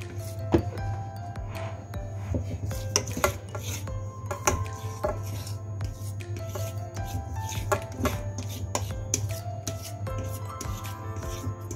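Puto batter being stirred by hand with water in a bowl at home, a steady rubbing, scraping rhythm of utensil against the bowl, close and continuous with scattered sharper knocks and no talk.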